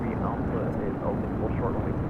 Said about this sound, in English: This is United 1331 taking off to Newark on a 757-200